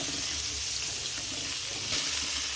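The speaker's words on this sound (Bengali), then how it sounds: "এবার নেড়ে নিচ্ছি। গোটা গরম মশলা খুব সুন্দর একটা সেন্ট উঠছে।" Whole garam masala fries in oil in a pan for a Bengali prawn poppy-seed dish, giving a soft, even sizzle with faint stirring throughout, fairly quiet and with no voices.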